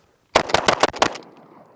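Semi-automatic shotgun fired in a quick string of five loud, sharp blasts about a fifth of a second apart, each ringing briefly, with a short echo trailing after the last shot.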